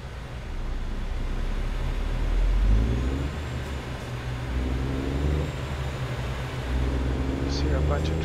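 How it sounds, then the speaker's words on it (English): Traffic rumble heard from inside a semi truck in American Truck Simulator, a continuous low engine drone with passing vehicles swelling and fading, while a person talks over it. "Just hear a bunch of traffic noise."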